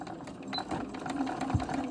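An embroidery sewing machine stitches a quilted in-the-hoop bowl cozy with a fast, continuous mechanical whir and rapid needle ticking, steady and close with no talk.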